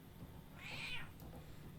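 One short, quiet meow from a house cat, drawn out briefly and trailing off, in an otherwise hushed room.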